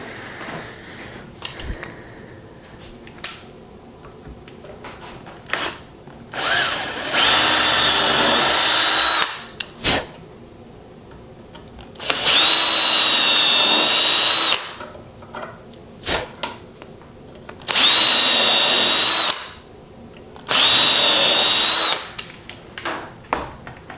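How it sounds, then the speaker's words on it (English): A power drill bores screw holes for shadowbox hardware, whirring in four loud bursts of a couple seconds each, separated by quieter pauses with small clicks and handling noises. "now I'm just going to drill for some screws"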